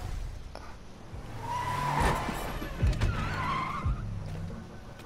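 Car tires skidding and squealing in a Fortnite game trailer, a rising screech with whooshing passes and a couple of thuds, heard over faint background music at moderate volume without talk.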